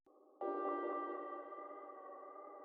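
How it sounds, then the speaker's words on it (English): Plucked synth note from a sample loop in FL Studio, dry and unprocessed, entering with a soft attack then a brighter onset and ringing sustain that slowly decays, faint and alone. "I had this plucked sound. It sounds like this."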